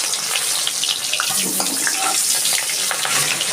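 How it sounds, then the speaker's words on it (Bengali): Tangra fish hit hot refined oil in a kadai and set off a loud, dense sizzle and spatter that stays close and steady for a few seconds, with no speech. "মাছগুলো কড়াইতে দিয়ে দিচ্ছি"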